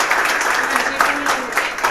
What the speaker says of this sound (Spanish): Vamos a dar un fuerte aplauso a las chicas del Ministerio de Música de Sumampa